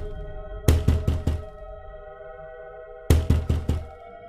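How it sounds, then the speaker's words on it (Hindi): A house door is knocked on in two close, loud bursts of four sharp raps each, separated by a pause, over a faint steady tonal hum. "फिर वह उस घर का दरवाजा खटखटाती है।"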